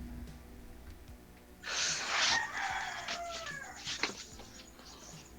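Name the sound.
neighbor's chickens, rooster crowing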